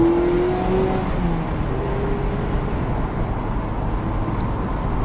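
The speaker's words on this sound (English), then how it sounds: "Lots of road noise, lots of engine noise." A 2017 Mazda MX-5 RF sports car on the move fills the cabin with a steady engine drone and heavy road rumble, with a tone that shifts briefly early on before settling into constant noise.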